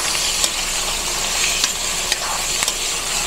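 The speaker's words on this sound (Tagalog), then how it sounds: "habang sinasangkot siya natin, syempre, maluluto na yung ating bawang at sibuyas" Pork belly sautéing with garlic and onion in a hot pan for creamy dinuguan, a loud continuous sizzle and fry with a few quick stirring scrapes, close and without talk.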